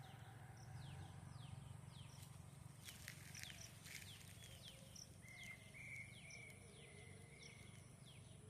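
Birds chirp at dawn during a morning walk outdoors: faint, scattered calls and short repeated chirps over a quiet, low background hum.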